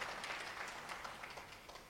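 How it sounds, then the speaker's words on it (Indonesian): A church congregation gives applause during an Easter Sunday sermon, a brief, faint, steady patter of many hands clapping together, heard alone without talk. "Berikan kemuliaan tepuk tangan yang terbaik bagi Tuhan Yesus."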